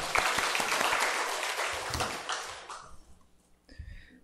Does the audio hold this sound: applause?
yes